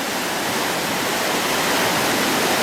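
River water rushes down in a loud, continuous roar near the Turret Water by Crieff, a steady broadband wash with no voices.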